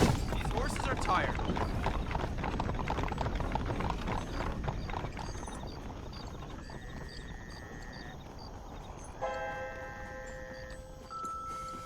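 Horses walking in Red Dead Redemption, a steady clip-clop of hooves up close and fairly loud, fading slightly as other game sounds come in toward the end.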